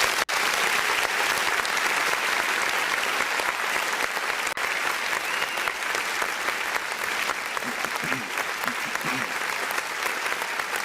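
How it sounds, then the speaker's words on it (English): An audience on a talk show gives a round of applause, steady, dense clapping that carries on unbroken for about ten seconds, with faint voices underneath. "We're gonna give him a nice little round of applause while we at it."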